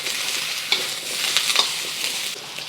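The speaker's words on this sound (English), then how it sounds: "I'm just going to stir fry this for about 3 to 5 minutes until the vegetables are tender." Ground beef and vegetables stir-frying in hot oil in a pan, with a bright continuous sizzle and a few light scrapes and clicks of stirring, no talk.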